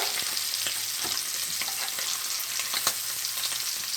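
Steak frying in brown butter for a medium rare New York strip, a steady dense sizzle with crackling pops throughout, close and fairly loud with no voices.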